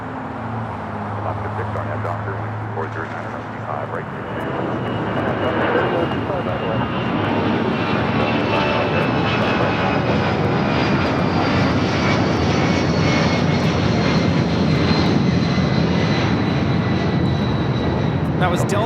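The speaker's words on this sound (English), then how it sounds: "That was Delta 8949 taking off to San Jose, California on the 757-200." A Delta Boeing 757-200 takes off from LAX bound for San Jose, its engine roar swelling and holding as a loud, steady, broadband rush for nearly twenty seconds, close and dominant.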